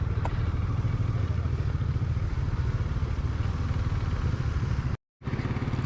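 A KTM Duke 390 motorcycle engine rumbles steadily and fairly loud throughout while riding, with a brief dropout near the end before the same drone resumes.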